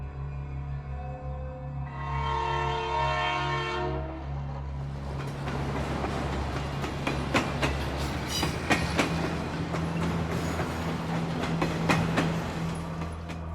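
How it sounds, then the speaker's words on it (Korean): A train rolls past over railway tracks, a loud sustained rumble with rhythmic clickety-clack of wheels on rail joints and a brief horn-like tone near the start, with no voices. "불과 몇 초 사이에 열차가 지나가면서 카트리지는 산산조각나 버렸다"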